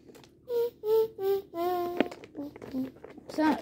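A voice imitates a kazoo with a string of short buzzy hummed tones, several separate bursts with a nasal, reedy quality, close and fairly quiet.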